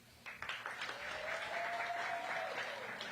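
Applause from an audience at a Washington, D.C. restaurant week launch event, moderate and steady, with a tonal whistle-like sound and faint crowd voices mixed in.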